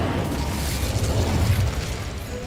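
An Incendio fire spell cast in Hogwarts Legacy, giving a loud, sustained whooshing roar of flame with a deep rumble that swells slightly midway, filling the whole moment with no talking.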